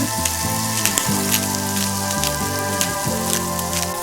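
Shrimp rolls and meat with green and red bell pepper rings, seasoned with sea salt and black pepper, sizzle steadily as they are stir-fried in a wok, a soft continuous frying hiss running beneath background music.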